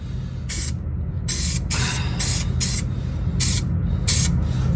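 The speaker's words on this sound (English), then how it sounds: "got some weld through primer. I'm gonna go ahead and spray it on there" Several short bursts of weld-through primer sprayed from an aerosol can, loud and close, each lasting under a second with brief pauses between.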